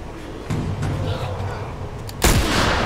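A sniper rifle fired in The Last of Us video game, a sharp loud report near the end over ongoing game ambience, preceded by a softer thump.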